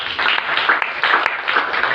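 A church congregation applauding for Jesus, a dense burst of many hands clapping with rhythmic pulses, loud and close, with no clear voices.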